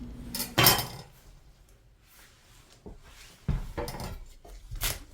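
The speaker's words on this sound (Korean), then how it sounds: "무 큰 거 쪼개가지고 한번 해볼게요." Knife blows splitting a large radish on a cutting board while making dongchimi, with a few sharp thuds and clatters spread across a quiet kitchen, including one loud knock near the start.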